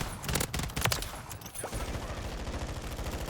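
Rapid rifle fire from a Modern Warfare shooter game, bursts of loud sharp shots in quick succession with brief gaps, then a steady rattling stream of automatic fire, with no talk over it.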